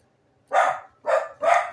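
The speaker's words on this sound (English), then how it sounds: "Why are they barking?" Three loud, close dog barks in quick succession, each short and sharp, with silence before them.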